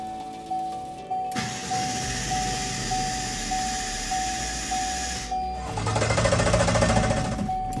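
Starter cranks an ICON T8 engine during a cylinder compression test, a loud, rhythmic, pulsing churn that runs for several seconds, over a faint steady electronic beeping, and ends in a harsher, heavier burst.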